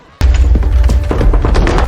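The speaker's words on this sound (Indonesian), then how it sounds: "sedangkan Nell terkena ledakan bom kecil" A small bomb blast in an action film: a sudden loud boom bursts in after a brief quiet moment, followed by rumbling debris and crashing noise that stays heavy to the end.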